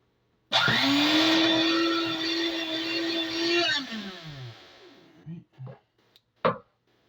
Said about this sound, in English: That would be my grandmother's can opener from the turn of the century. It is very loud